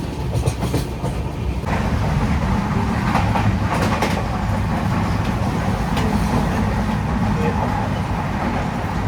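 A passenger train rolls steadily along its rails, a continuous loud rumble with rattling carriage noise throughout, heard from inside the coach.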